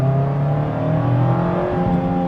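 A 2025 Mazda MX-5 Miata Grand Touring engine pulls hard on a test drive, its steady rising rev tone loud and close throughout, with no talk.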